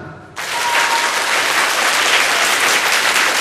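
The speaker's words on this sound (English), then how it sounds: "Clap." A classroom audience breaks into loud, sustained clapping that starts abruptly and continues evenly to the end, many hands applauding together.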